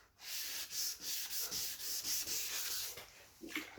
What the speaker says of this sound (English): Again, make sure your sandpaper is nice and wet.